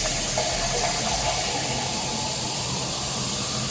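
Cold tap water runs steadily while fruit is rinsed, a continuous close rushing splash at an even level from start to finish, with no voices.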